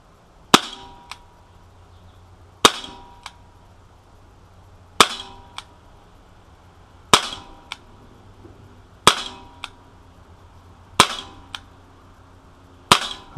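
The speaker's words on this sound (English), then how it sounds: "it's the first time I've shot this pistol, so we'll have to see how it does here" Sig Sauer P226 ASP CO2 blowback .177 pellet pistol firing eight sharp shots at a steady pace, each crack followed by a quick metallic blowback clack, loud and close with quiet between.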